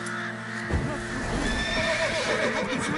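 Roach, Geralt's horse in the video game The Witcher 3 on PS5, lets out a loud whinnying neigh from about 0.7 seconds, with hoof clops and ambient game sound carrying on beneath it.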